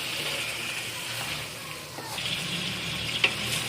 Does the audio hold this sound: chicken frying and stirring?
yes